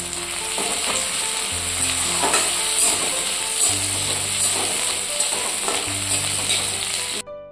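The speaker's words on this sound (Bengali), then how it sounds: "পেঁয়াজগুলো ব্রাউন করে ভেজে নেব" Chopped onions fry in a pan with a dense, steady sizzle that never lets up, and stirring scrapes come through now and then.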